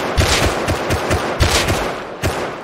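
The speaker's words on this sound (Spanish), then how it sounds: "están disparando" A rapid run of gunshots from Rust cracks close and loud in an uneven automatic rhythm, about a dozen sharp reports in under three seconds with no talking.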